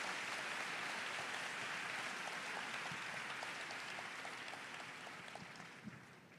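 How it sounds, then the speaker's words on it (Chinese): An audience at a public dialogue applauds Dr. Jane Goodall, a dense wash of many hands clapping that holds strong, then gradually thins and fades toward the end. "所以我是不是请大家给我们这位年轻的曾古德女士拍手"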